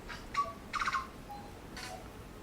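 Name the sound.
tui bird calling in Raetea forest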